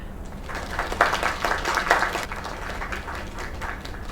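Crowd applause in the video game Lake fills a party scene, a steady wash of clapping that swells near the middle and then settles to a softer patter.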